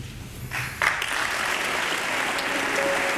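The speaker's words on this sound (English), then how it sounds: "President George W. Bush received applause from Democrats and Republicans at his 2003 State of the Union" Members of Congress applaud President George W. Bush during his 2003 State of the Union address, a broad, even roar of many hands swelling in after a brief moment and holding steady, heard from a distance in a large chamber.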